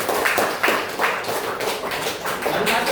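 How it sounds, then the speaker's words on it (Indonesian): A classroom of students clapping hands together in rhythmic bursts, roughly four or five loud group claps spaced about half a second apart, close and lively. "Tepuk tangan dulu."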